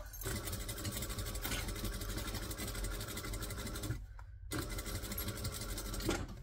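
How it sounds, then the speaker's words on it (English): Sewing machine stitching soft vinyl for a bag, running in a steady continuous whir with one short pause partway through, then resuming close up. "Backstitch at the start and the end."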